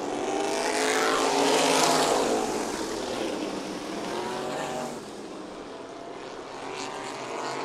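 Supermodified race cars roar around Meridian Speedway, a loud continuous engine howl with pitch sweeps as cars pass, swelling early and then holding steady.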